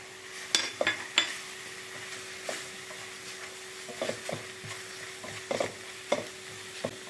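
Pav bhaji masala cooking with onion and tomato in a pan, Mumbai street-food style: repeated sharp scraping and clacking stirs of a spoon over a quiet, constant sizzle.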